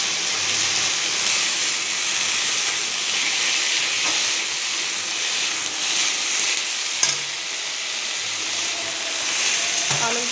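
Boiled spinach being stirred and fried in a pan with dried red chilli, giving a steady, close sizzle and hiss with occasional scraping stirs, no voices.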